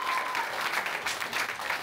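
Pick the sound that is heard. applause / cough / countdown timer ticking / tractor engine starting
applause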